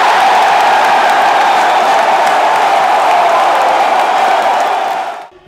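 Football supporters celebrating their team's promotion to Brazil's Série B, a steady, loud crowd roar of cheering and shouting that holds evenly for about five seconds before cutting off abruptly.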